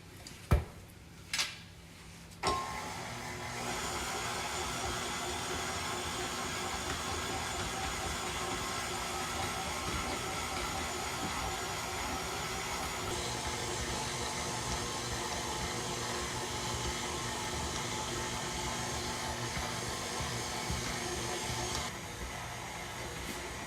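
A KitchenAid stand mixer churns five pounds of breakfast sausage meat, a steady motor whir with a faint paddle rumble that runs unbroken after a few brief knocks, shifting pitch slightly partway through.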